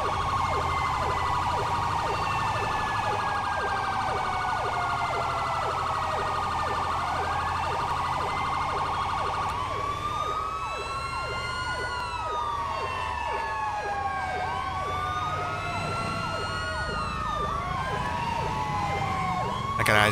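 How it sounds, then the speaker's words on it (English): A police siren in the video game GTA V wails loudly and continuously, its rising and falling pitch sweeps shifting partway through to a different, quicker pattern and holding steady to the end. "The siren's kind of loud."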